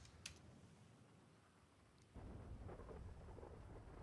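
A thunderstorm rumbles in a Daryl Dixon video game, with a low, distant roll of thunder under a soft rain wash that grows louder partway through.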